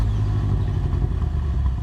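A 2013 BMW M5's 4.4-liter twin-turbo V8 rumbles in a steady, close, low-pitched drone with slight mechanical clatter, heard alone.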